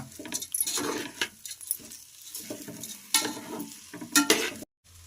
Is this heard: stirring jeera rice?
yes